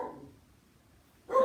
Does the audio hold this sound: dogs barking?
yes